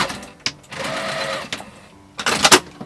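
A sewing machine stitching yukata fabric runs in short close bursts of rapid mechanical whirring, starting and stopping several times with pauses in between.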